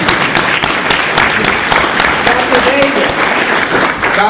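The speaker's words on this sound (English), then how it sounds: "Did y'all give them a very big applause?" Audience applause fills a congressional briefing on conditions of youth incarceration, steady dense clapping from a crowd with voices mixed in underneath throughout.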